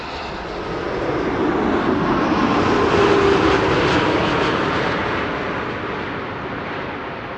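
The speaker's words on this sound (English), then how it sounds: "This is KLM flight 644, arriving from New York, JFK." A KLM Boeing 787-10 Dreamliner landing at Amsterdam Schiphol after a flight from New York JFK, a loud, steady engine roar that builds, crests near the middle and slowly fades, heard alone without talk.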